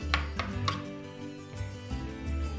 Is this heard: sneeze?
no